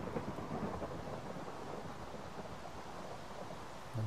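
Steady rain falls in the Minecraft video game, a constant dense hiss with a low rumble beneath it that holds evenly throughout, with no voices.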